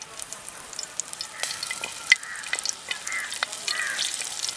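Mustard seeds and fenugreek crackle and sizzle in hot oil as freshly picked kanthari chillies go into the pan, a dense continuous frying hiss punctuated by sharp popping spits, close and fairly loud, with no talking.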